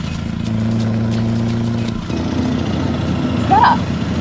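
Truck engine in a German Nightmare on Elm Street fan film: a continuous mid-pitched motor rumble that briefly dips, then carries on, with a short vocal sound near the end.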